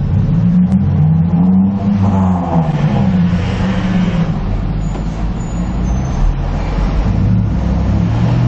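Toyota Fortuner 2.8 GR Sport cruising on a toll road, heard from inside the cabin as a steady, loud low engine and road drone with tyre rumble and gentle shifts in engine tone, no talking.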